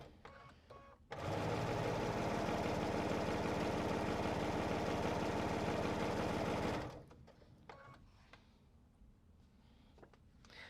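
A sewing machine stitches a fabric panel in one steady, loud run of about six seconds, starting abruptly and then stopping, with quieter handling noise before and after.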